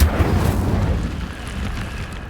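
Incendio fire spell cast in the game Hogwarts Legacy: a loud, deep whooshing burst that erupts at once and then roars on steadily as a rumbling fiery rush for a couple of seconds, alone with no voices.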